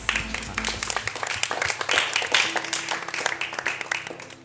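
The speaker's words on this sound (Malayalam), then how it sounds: "ഒരു ക്ലാപ്പ് കൊടുത്തേ" Studio audience clapping for the episode's winner on a television show, a dense round of hand claps sustained over several seconds at moderate volume.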